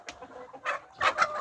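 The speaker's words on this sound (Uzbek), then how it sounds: "Parranda ishqibozlari hamda 7 xazinali biri deyiladigan Andijon qora tovuqlarimiz." Andijan black chickens clucking at close range, a few short, clipped calls in a quick uneven sequence with quiet gaps between them.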